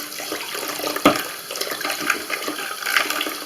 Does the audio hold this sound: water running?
yes